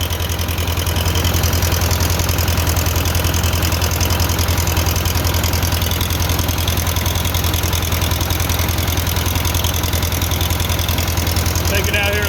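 A 1970 John Deere 2120 tractor engine idles steadily and close by, a smooth, even diesel rumble with a constant low throb that holds unbroken for the whole stretch.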